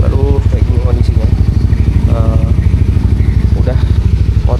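A touring motorcycle idling nearby with a steady, loud, rapid thumping pulse, while someone talks over the engine.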